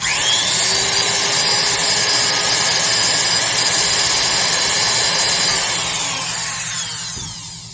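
Skil Classic 548 mini router, freshly oiled, running with a loud, steady high-pitched motor whine close up that winds down and fades at the end.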